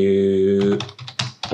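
Typing a text value on a computer keyboard: after a sustained tone, a quick series of crisp, close key clicks follows in an uneven burst, with no talk.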